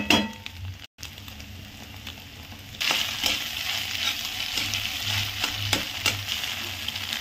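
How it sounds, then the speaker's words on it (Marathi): Egg bhurji frying in a pan with homemade masala, a steady hiss that swells louder partway through, with stirring scrapes and clinks of a utensil against the pan and no voice. "असं मस्त भाजून घ्यायचं"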